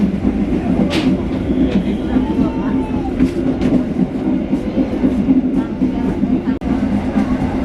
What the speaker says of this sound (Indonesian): Jadi kereta Cibindong ini adalah kereta bernomor K3000820 kelas 3, artinya kelas ekonomi